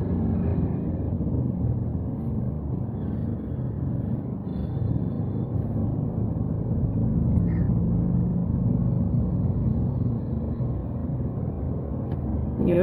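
Road traffic produces a steady low rumble of car and engine noise that stays constant and fairly close throughout, with no clear individual vehicles standing out.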